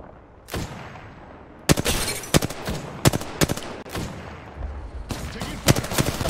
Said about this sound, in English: Oh shit, I'm taking fire.